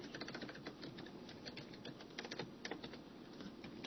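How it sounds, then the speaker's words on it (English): Rapid, continuous clicking of keys on a computer keyboard, close and fairly quiet, with uneven bursts of keystrokes and no talking. "I'm getting tired of typing that"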